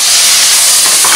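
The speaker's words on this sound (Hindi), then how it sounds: "प्याज गोल्डन ब्राउन हो चुके हैं, अब हम इसमें कटे हुए टमाटर डालेंगे" Chopped tomatoes hit golden-brown onions frying in a pan for pav bhaji, producing a loud, dense, continuous hiss and sizzle with no pauses.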